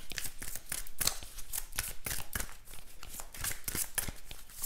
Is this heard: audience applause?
no